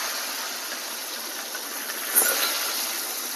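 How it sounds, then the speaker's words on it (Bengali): Chopped chillies, onion and garlic frying for a Bengali dried-fish mash, a steady dense hiss of sizzling oil throughout with a small pop midway and no talking. "এই যে মরিচ, পেঁয়াজ, রসুন এগুলো কাটা, আমি আবার এগুলো ভেজে নেব।"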